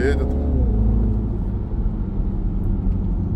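A Mini Countryman John Cooper Works with a 306-horsepower turbo engine drives fast. A deep, continuous rumble of engine and road noise fills the cabin, with a brief voice at the very start.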